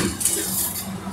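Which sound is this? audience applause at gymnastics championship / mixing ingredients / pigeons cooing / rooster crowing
mixing ingredients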